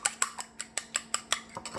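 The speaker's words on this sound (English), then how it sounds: "I got 1 egg already cracked. Just whisk it up here." A cracked egg being whisked in a bowl: about a dozen quick, evenly spaced metallic taps and clicks in a steady rhythm, close and fairly light.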